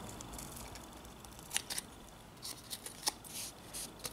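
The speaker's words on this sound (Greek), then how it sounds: "παίρνω με το ψαλίδι μου και απλά στρογγυλεύω τη γωνία" Scissors cutting to round the corners of a piece of craft material, heard as a few faint, close snips scattered over a few seconds in a quiet room.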